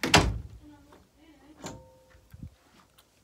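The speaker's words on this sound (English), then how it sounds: "But I just locked my door." A bedroom door is shut and locked: a loud thud up close, then a latch click and faint rattling clicks in a quiet room.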